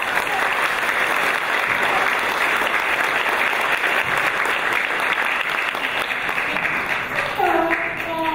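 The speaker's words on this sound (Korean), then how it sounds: "그 뜨거운 그대로 박수 부탁드립니다" Sustained, loud applause from an audience at a Korean memorial event for the Sewol ferry disaster, holding steady throughout as dense clapping with some faint crowd noise, then dipping slightly near the end.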